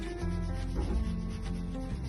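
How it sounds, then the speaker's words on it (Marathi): A boiled potato is grated on a kitchen grater, making a continuous close, rough rubbing and scraping sound with slight pulses from the strokes. There is no talking. "आता आपण हा बटाटा उकडून घेतलेला किसून घेऊया।"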